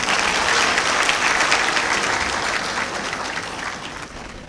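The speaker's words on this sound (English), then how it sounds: "I think you should give yourselves another round of applause" Graduates and guests at a university congregation ceremony clap in a sustained round of applause from a large indoor crowd, dense and loud at first, then gradually fading.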